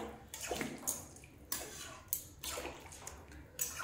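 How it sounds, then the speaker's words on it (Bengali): Water pours and splashes into a pan of paneer ghugni, a Bengali curry, in a kitchen, with faint sloshing and a few brief spatters, quiet and close. "এই যে দেখেন জল দিয়ে দিয়েছি"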